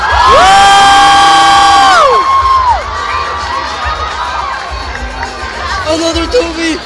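A crowd at a cosplay event cheers loudly, with high whoops and shouts ringing out at first, then fading into a lively murmur of voices with scattered yells.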